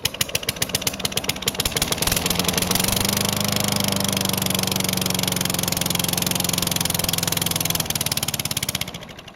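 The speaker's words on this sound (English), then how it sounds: "I want to see how she runs no exhaust at all." A small lawn mower engine running with no exhaust fitted after a carburetor cleaning: a loud, raw, rapid popping putter close by that revs up, holds steady, then drops off near the end.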